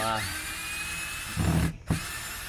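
A power drill spins out square-bit screws holding a roof fan in a camper wall, with a steady whine followed by brief louder bursts of the driver straining and stopping, close up.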